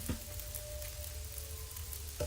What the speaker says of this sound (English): Okay, I've got 43 minutes on the steak.